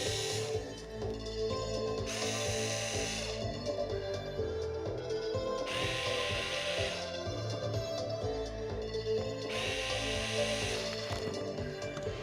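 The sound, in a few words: power drill removing screws during repair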